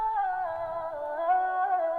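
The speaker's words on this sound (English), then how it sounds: "Some of this bit crush and saturation." Heavily processed vocals pushed through distortion, bit crushing and saturation on a simple R&B beat, a sustained warped tone with gritty harmonics held steadily for a couple of seconds, loud and alone.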